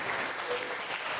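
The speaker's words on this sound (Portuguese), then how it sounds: "E aplauda o nome do Senhor, que é digno de toda a honra." A church congregation applauding during a Sunday Bible school service, a dense, even wash of many hands clapping that holds steady across the whole moment.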